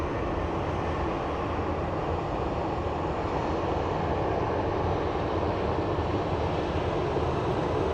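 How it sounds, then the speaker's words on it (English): Small Embraer jet on approach to land at Phoenix Sky Harbor, a constant low broadband engine rumble heard from afar, steady throughout with no voices. "Looks like a little Embraer coming in."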